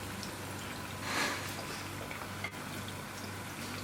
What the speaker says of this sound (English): We're going to put the onion and fry them until